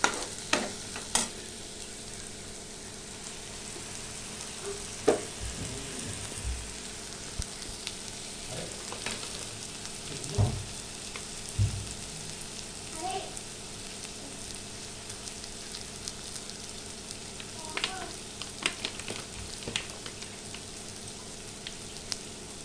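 Soya chunks (meal maker) fry in a pan with a continuous crackling sizzle, broken by scattered clicks and scrapes of stirring, close up and without talk.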